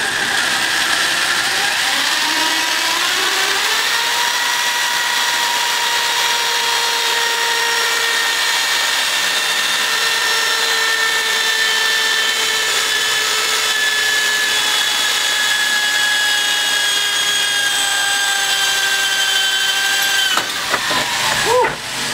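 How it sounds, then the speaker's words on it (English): A power drill with a dull bit grinds steadily through thin metal on a homemade go-kart build, a continuous high whining screech that holds for about twenty seconds before a clattering stop. "we got the drill and we're going to go ahead and drill through this side."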